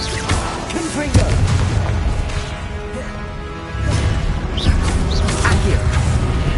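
A Confringo spell blast in the Hogwarts Legacy video game: a loud booming explosion with whooshing bursts, several heavy impacts over a dense, continuous battle soundscape.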